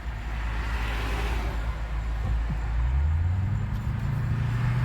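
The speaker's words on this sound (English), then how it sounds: "I got the engine fighting the brakes when that happens" A car engine surges against its applied brakes, a low rumbling drone that swells and climbs in pitch toward the end, steady and close with no voices.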